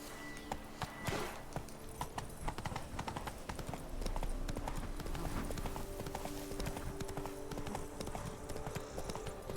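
Roach, a horse in The Witcher 3 video game, trotting with steady rhythmic hoof clip-clops, close and clear, over a soft game ambience with a brief faint whinny.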